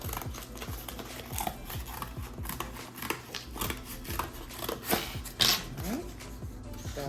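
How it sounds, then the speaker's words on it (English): Repeated crisp snipping of small scissors cutting yarn at close range, in an irregular rhythm, with faint rustling between cuts. "It would be nice if I use a bigger scissors, but this will do"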